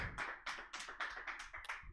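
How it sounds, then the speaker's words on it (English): Light applause comes from an audience at a comedy show. It is a thin, close patter of hand claps in quick uneven bursts, fairly quiet, with no speech. "Keep clapping. Keep clapping."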